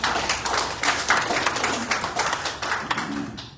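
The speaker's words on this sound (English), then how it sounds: "Let's give him another round of applause." Attendees at a city commission meeting clap for an honoree, a short, close burst of uneven hand claps that fades out after a few seconds.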